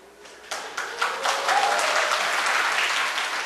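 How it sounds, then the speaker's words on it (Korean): Church audience breaking into applause, starting with a few scattered claps and quickly swelling into loud, sustained clapping. "아직 박수 치시면 안 돼요"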